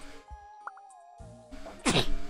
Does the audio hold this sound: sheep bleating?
no